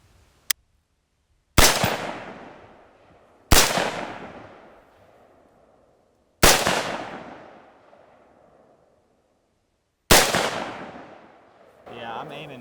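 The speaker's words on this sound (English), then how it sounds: "We're gonna shoot 75 now." Four loud rifle shots fired outdoors at a 75-yard target through a cheap Temu scope, each a sharp crack with a long decaying echo, spaced a couple of seconds apart, followed by a brief voice.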